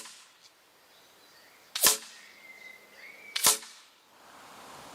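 Two sharp, loud cracks from an FAC air rifle fire about a second and a half apart outdoors, each a crisp snap with a faint trailing ring, over a quiet background.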